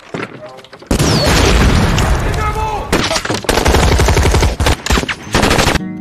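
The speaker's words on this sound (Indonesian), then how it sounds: "datang pasukan Taliban memeriksa gedung-gedung, lalu tim mempersiapkan diri dengan formasinya dan terjadilah baku tembak yang menegangkan." Intense film firefight with Taliban fighters, sustained machine-gun bursts and heavy booms filling the scene, loud and dense with brief lulls between volleys.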